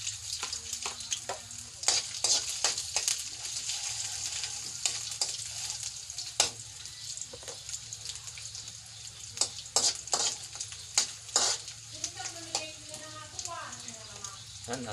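Ginger sizzles in hot oil in a pan while a utensil scrapes and stirs it, a steady loud fry with repeated sharp stirring clacks, and a voice talks briefly near the end.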